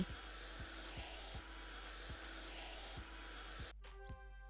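A vacuum-like cleaning tool in the House Flipper video game, whirring at a steady low hum with a faint repeating pulse, then cutting to a thinner whine at the end.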